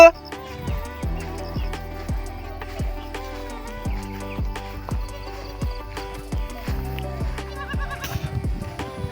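Goats bleat again and again in a series of wavering, nasal calls, close by, with a steady background hum behind them.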